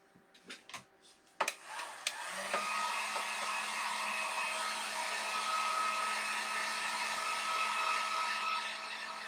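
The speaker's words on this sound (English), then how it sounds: "I'm going to dry my paint with my heat gun" A heat gun drying paint on a Christmas tree home decor piece switches on after a few clicks and handling knocks, then blows a steady, loud, whooshing roar with a faint whine for the rest of the stretch.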